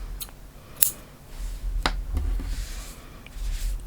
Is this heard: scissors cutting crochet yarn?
yes